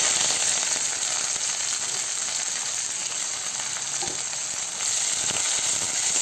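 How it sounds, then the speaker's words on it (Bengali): Chopped onion fries in hot oil with whole cumin seeds, giving a steady, dense sizzle that fills the whole clip at close range, broken by a few faint stirring scrapes. "পেঁয়াজটা ভেজে নেব"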